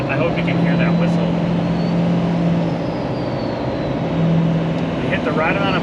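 A 2006 Ford F550 rollback tow truck's 6.0L diesel engine drones loudly with a thin turbo whistle rising over it, swelling and fading as the boost builds.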